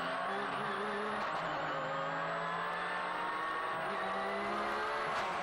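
Racing cars crawling in formation toward a rolling start at Donington, engines idling and droning steadily at moderate distance, with a faint whining pitch rising and falling over the low rumble; nobody speaks.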